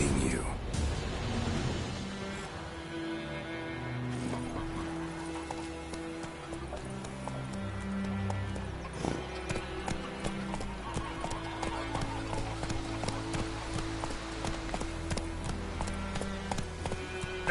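Roach, the horse in The Witcher 3, gallops with fast, rhythmic clip-clopping hooves over game music, and character voices speak now and then.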